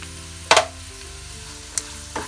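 Onions frying with partly cooked chicken in a pan over low flame, a soft continuous sizzle under a few sharp scraping clicks of a utensil stirring against the pan.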